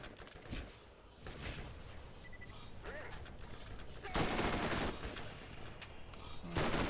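Rapid gunfire from a shooter video game, Borderlands, with sustained loud bursts of shots, the densest and loudest volley coming toward the end, over a busy game soundscape.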